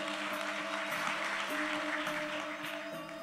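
Steady, dense applause from a crowd at an official inauguration ceremony attended by the Indonesian president in Bali, heard at a moderate distance over a constant background hum.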